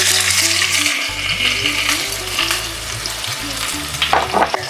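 Mustard seeds and finely chopped onions fry in hot oil, giving a loud, dense sizzle close up with stirring scrapes, while background music plays throughout.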